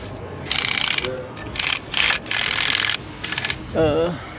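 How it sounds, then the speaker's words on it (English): A ratchet wrench clicks in quick repeated bursts as a bolt is driven on a 2005 LLY Duramax diesel engine during head gasket replacement, loud and close, with several short runs separated by brief pauses and a final rubbing squeak. "Now let's put the bolt in this."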